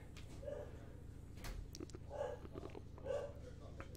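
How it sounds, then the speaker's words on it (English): Dog barking in the background, three muffled, distant barks spaced about a second apart beneath a steady low hum, faint and indoors. "I hope it, you guys don't hear the barking."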